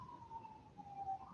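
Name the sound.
sirens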